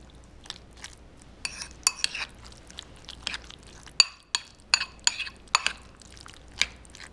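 Guacamole with jalapeno and lime is mashed and mixed in a bowl, producing sharp intermittent clinks and wet squelches against a quiet background, close up and with no one talking.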